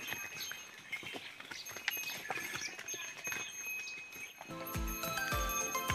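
Cattle hooves clop along a rural path on an early morning as the herd is driven out, soft irregular steps fairly close, with birds chirping and a brief clatter near the end.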